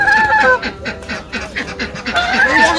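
Ducks in a village call with rapid, repeated nasal honks and quacks, loud and close, in quick overlapping bursts.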